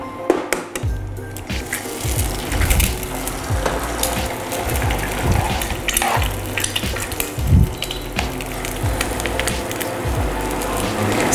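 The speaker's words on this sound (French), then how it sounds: "Je fais en même temps mon œuf au plat." An egg frying in a pan at a galette stand in Lens, with a steady close sizzle running throughout, punctuated by scattered clinks and knocks of utensils, no talk.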